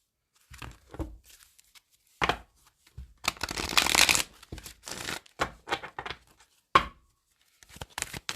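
Tarot cards are shuffled by hand in a quiet room, a series of soft papery riffles and slaps in uneven bursts, with one longer dense flurry of card noise near the middle and short taps around it.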